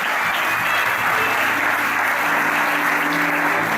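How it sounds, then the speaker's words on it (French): Audience at a church consecration service applauds the mother steadily and densely, a continuous wash of clapping with no talk over it. "Applaudissons pour maman, s'il vous plaît"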